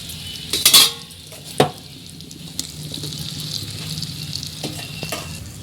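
Fried okra and potatoes sauté in spice masala, a steady close sizzle with clinks and scrapes of a utensil against the pan near the start.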